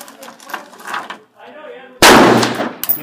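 A Yugoslavian SKS M59/66 rifle fires a single loud, sharp shot that rings out and decays. Quieter talk and handling noises come just before it.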